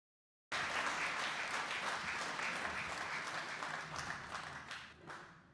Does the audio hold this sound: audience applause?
yes